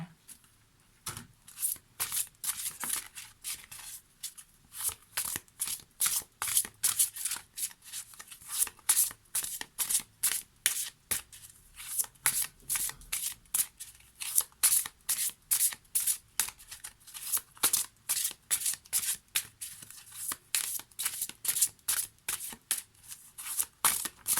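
Oracle cards are shuffled over and over for a reading, a close, crisp series of rapid riffling swishes in an even rhythm that continues throughout with only brief pauses.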